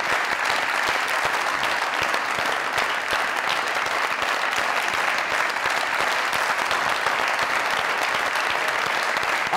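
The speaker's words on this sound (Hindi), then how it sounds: "A standing ovation for Saba Hamid ji, please come on!" Steady, dense applause from a large studio audience giving a standing ovation for actress Saba Hameed on a comedy talk show, loud and continuous throughout without speech.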